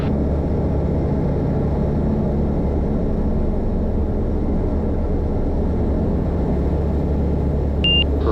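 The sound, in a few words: small airplane engine at full power for takeoff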